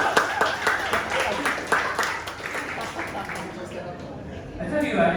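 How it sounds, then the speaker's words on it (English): A concert audience at a Malaysian jazz talk claps in a scattered, moderate round of applause that fades gradually, with someone speaking over it. "Everybody, let's give a round of applause"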